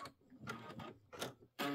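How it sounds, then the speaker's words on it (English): An embroidery machine runs its thread cutter after stitching a pillow block, giving a few short mechanical whirs and clicks followed by a louder closing burst, close and quiet. "let me go ahead and hit my cut button"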